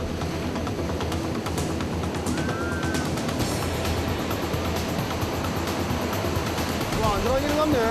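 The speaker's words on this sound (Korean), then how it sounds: "파도는 대원을 집어삼키기라도 할 듯 거칠게 일기 시작했다." High, rough sea waves crash continuously at Haeundae beach, a loud, dense wash of surf that fills the whole stretch, with a voice briefly audible over it.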